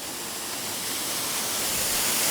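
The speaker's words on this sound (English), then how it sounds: "Nice waterfall here." Steady broadband rush of a waterfall along the Palouse to Cascades State Park Trail, loud and continuous with no pauses, swelling slightly over a couple of seconds and heard close by without any voices.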